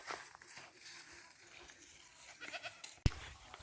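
Goats on a farm in Palawan bleating faintly at a distance, a few scattered calls among soft rustling and footsteps, with one sharp knock near the end.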